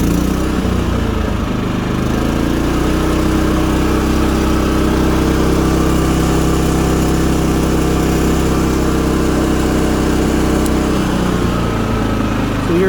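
A Champion 3100 watt inverter generator runs steadily after starting, a loud, even engine drone with a constant hum throughout and no talk over it.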